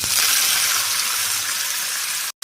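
Mustard seeds and curry leaves crackle in a spoonful of hot oil as tempering for an apple chutney, a loud, steady, close sizzle that runs unbroken and then cuts off abruptly at the end.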